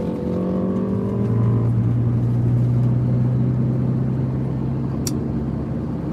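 A truck drives down the road, heard from inside the cab as a steady, loud engine and road drone with a gear change early on, no talking.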